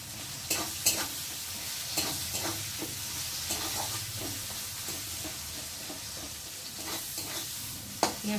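Bay leaves hit hot oil in a pan, giving a steady close sizzle with a handful of sharp spatula scrapes and clinks spread across it; no one speaks.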